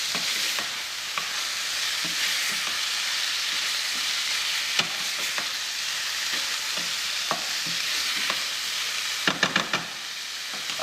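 Chicken frying with aromatics in a pot while cooking geera chicken, a steady dense sizzle with occasional stirring clicks and scrapes throughout.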